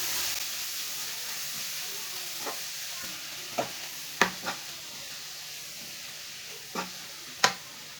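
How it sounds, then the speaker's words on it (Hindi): Grated carrots frying in a pan for Punjabi gajrela over medium heat, a soft steady sizzle with a few sharp spoon scrapes and taps spaced out across the stretch, no voices. "इसे 5 मिनट तक ऐसे ही चम्मच चलाते हुए भून लेंगे।"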